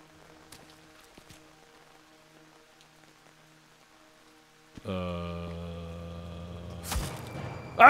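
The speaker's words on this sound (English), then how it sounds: "It's raining as I walk the alleys of Paris." Rain falling in the alleys of Paris in the video game We. The Revolution: a faint, steady patter with scattered drips, later joined by a loud sustained tonal drone and a sudden sharp hit at the end.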